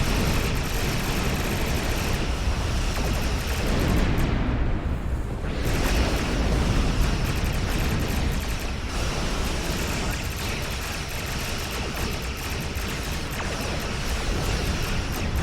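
A starship blows apart in Star Trek Online, a long roaring explosion with a dense, continuous rumble and crackle that swells early and stays loud, no voices over it.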